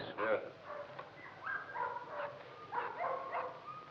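Puppies yip and whimper in short, high bursts, several quick barks scattered across a few seconds, fairly faint.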